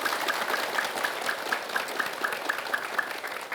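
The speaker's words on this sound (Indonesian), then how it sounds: "Tepuk tangan lagi." Studio audience of women at an Indonesian Islamic TV talk show applauding, a steady dense wash of clapping held at an even level for several seconds, with no talk over it.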